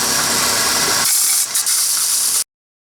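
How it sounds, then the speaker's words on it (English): Band sander running and sanding an angle into a workpiece, a loud, steady, close hiss and whir that shifts partway through and then cuts off abruptly. "Why didn't you just sand that angle in there with the band sander?"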